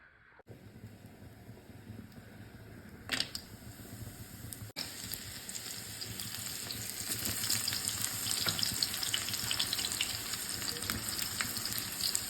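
Vegetables for Bengali shukto, including drumsticks and bitter gourd with mustard paste, sizzle and fry steadily in a pan, a loud continuous crackle that swells after a clatter, alongside faint running water.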